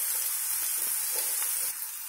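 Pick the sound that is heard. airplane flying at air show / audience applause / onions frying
onions frying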